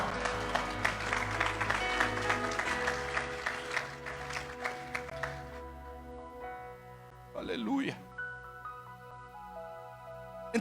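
A church congregation claps in a burst of applause over organ-like music and a speaker's voice, the clapping fading after about six seconds as a held musical tone and a brief vocal phrase continue.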